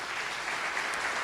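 A church congregation claps steadily, offering applause to Jesus during a service. The dense, even clapping fills the whole short stretch at moderate loudness, with no voice over it.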